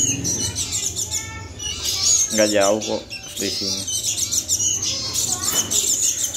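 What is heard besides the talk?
sooty-headed bulbul chicks chirping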